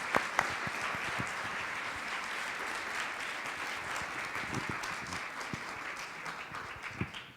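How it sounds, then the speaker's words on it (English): Steady applause from a conference audience for a panel, moderate and continuous for several seconds with a few sharper claps standing out before it tapers. "Big round of applause for our panelists."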